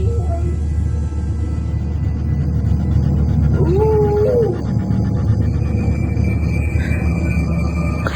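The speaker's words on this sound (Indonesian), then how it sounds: "ku dengar dia seperti melolong" An animal howls in a long, wavering cry, moderately loud over a low rumbling ambience, used as an eerie sound effect in a horror story about a boarding house at night.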